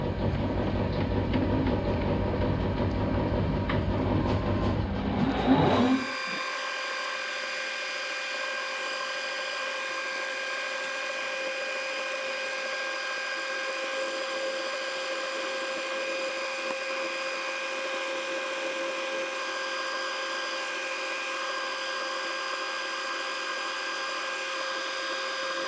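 A fly cutter trims the top off an old stub axle. A rough, broad grinding roar fills the first few seconds, then the machine settles into a steady, even whining hum that continues alone.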